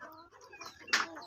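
Sick hen held in someone's hand giving a few soft clucks and one louder squawk near the end, close and brief against a quiet background.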